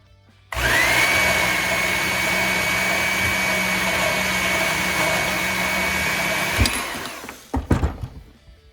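A power cutter slices one inch off a thick-walled, hardened chromoly steel push rod: a loud, steady whining drone holds for about six seconds, then winds down into a few clattering knocks.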